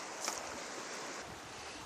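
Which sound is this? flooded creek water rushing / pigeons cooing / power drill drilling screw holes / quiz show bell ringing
flooded creek water rushing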